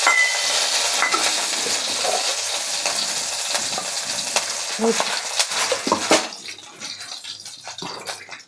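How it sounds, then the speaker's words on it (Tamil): Tempering spices crackle and sizzle in hot oil for tomato chutney in a pan on the stove, a dense, loud frying hiss with pops that settles and thins toward the end. "அதுக்கு ஒரு சின்ன தாளிப்பு கொடுத்துருவோம்."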